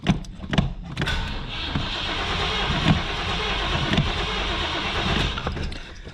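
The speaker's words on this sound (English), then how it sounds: "Fire this thing up though" A 1985 Buick Riviera's 5.0L 307 V8 cranks with a few rough sputtering bursts, then catches and settles into a loud, uneven idle close by.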